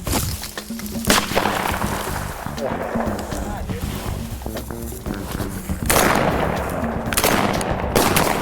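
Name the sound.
shotgun shots while quail hunting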